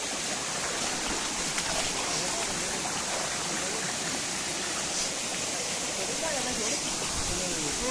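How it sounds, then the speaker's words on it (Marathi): A steady, full rush of falling water from the first tier of a monsoon waterfall at Pachund fills the whole clip, a constant broadband roar with no breaks, close and fairly loud. "आपण चौथीच्या धबधब्याच्या पहिल्या टप्प्याला आलेलो आहोत"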